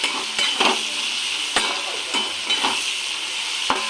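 Bitter gourd fries in hot oil for dal, a steady sizzle punctuated by several sharp spatula strokes and scrapes against the pan, close and moderately loud.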